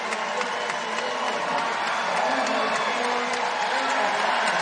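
Home crowd at a women's college basketball game, Gonzaga against Utah, roaring and cheering continuously as players come out, a dense sustained arena din with whoops rising through it.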